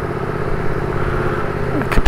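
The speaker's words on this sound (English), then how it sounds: "Sorry to spoil your nice quiet with my stupid bike." Motorcycle engine in a video game, a steady close mid-pitched drone that rises slightly toward the end, loud and continuous.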